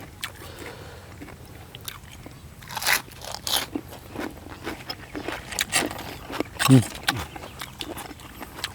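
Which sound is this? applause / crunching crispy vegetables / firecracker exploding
crunching crispy vegetables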